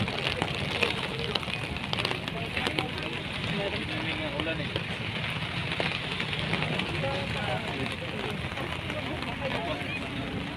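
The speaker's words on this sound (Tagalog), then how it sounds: "Guys, umuulan na." Rain falling at Manila Bay Dolomite Beach, a steady broadband hiss with scattered patters and some wind, continuous from start to end, with faint voices in the background.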